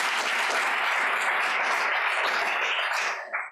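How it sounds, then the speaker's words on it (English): An audience applauds warmly for Carmel High School at a poetry recitation championship, a dense steady wash of clapping that holds loud and even before tapering at the end. "So let's give them a big round of applause."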